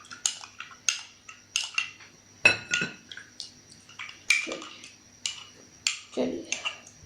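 A plastic spoon stirs hand sanitizer in a container, making a close series of light clicks and taps against the sides with brief gaps between strokes.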